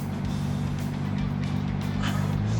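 A 602-horsepower Lamborghini Huracán EVO accelerates hard, its engine producing a loud, continuous low roar with a dense rumble and rising pitch, heard from inside or close by with no pause.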